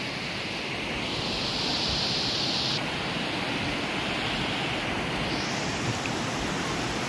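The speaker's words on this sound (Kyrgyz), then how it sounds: "Ошол чоң шаркыратмадан түшкөн суу экен." Roaring water from a large waterfall rushing down as a river, Arstanbap mountain gorge; a loud, steady broadband rush fills the whole stretch alone, with no talk.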